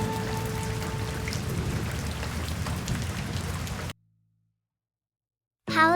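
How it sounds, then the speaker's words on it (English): Steady rain falls outdoors on a rainy day, a dense even hiss of drops that runs for about four seconds, then cuts to silence before a short unrelated tone at the end. "The rain falls."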